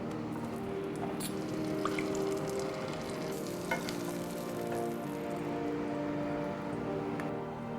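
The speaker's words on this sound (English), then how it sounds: "Also, the asparagus needs to be sautéed for a few seconds." Asparagus sautéing in a hot pan, a steady close sizzle with occasional stirring clicks and scrapes running continuously with no talk.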